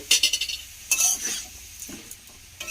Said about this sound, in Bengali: তো দেখুন এইভাবে একটু নাড়বো।